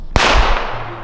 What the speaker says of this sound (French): vous avez entendu l'explosion de la dynamite